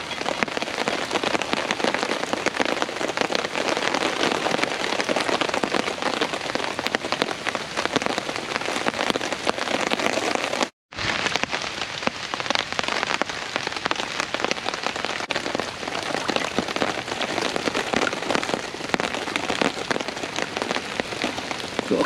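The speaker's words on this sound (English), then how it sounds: "So obviously it's raining" Steady rain pours down outdoors in wet bushcraft conditions, a dense, loud hiss of drops pattering on surfaces that continues without letup, broken only by a split-second cut midway, with no voices.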